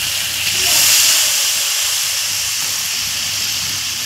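Water poured into a hot pan of browned chicken curry being fried down, giving a loud, steady steamy hiss that swells in the first second and then holds on evenly to the end.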